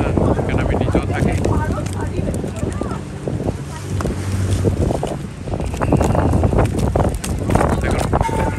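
Boat ride on the River Thames toward Canary Wharf, steady engine drone and wind buffeting the microphone throughout, with someone speaking over the noise.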